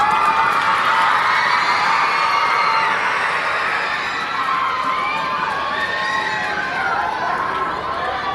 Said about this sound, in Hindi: अपने हाथों को थोड़ा काम दीजिए और कुछ तालियां तो इन बच्चों के नाम दीजिए